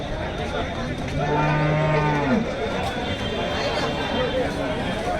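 A cow lets out a long, low moo amid a noisy crowd of chatter and bustle at the Chalisgaon cattle market, with more lowing faintly in the background.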